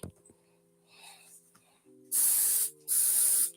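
A sanitizing spray bottle gives two long, loud hissing bursts at close range, following a quieter earlier puff, with a steady electronic hum beneath.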